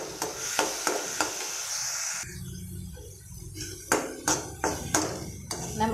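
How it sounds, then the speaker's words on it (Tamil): Chopped green chili and spinach are sautéed in a pan, a light sizzle under sharp, repeated taps and scrapes of a spoon against the metal, close and fairly quiet. "ஒரே ஒரு பச்சை மிளகாயை கட் பண்ணி இதை நான் இப்போது வதக்கி கொடுப்பேன்"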